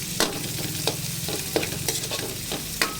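Onions and bay leaves sautéing in a pan, a loud steady sizzle broken by several sharp stirring scrapes, close up with no talking.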